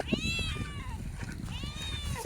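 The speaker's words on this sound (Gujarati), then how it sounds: "મિત્રો જુઓ મસ્ત બિલાડી છે અને ત્રણ બચ્ચા પણ હે" A cat on a farm, where buffaloes are being milked and the cat comes daily for milk, gives two close, clear meows over a low background rumble.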